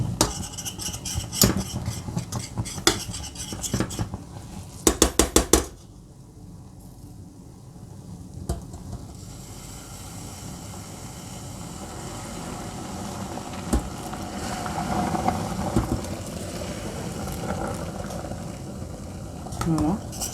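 A spoon stirs melting caramel in a cooking pan as milk is added for a homemade Danette-style dessert cream, giving soft scraping and clinking over a low bubbling simmer, with a voice speaking at times.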